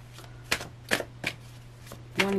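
Tarot cards shuffled by hand in a few quick riffles, crisp papery flutters spaced apart, close and alone in a quiet room.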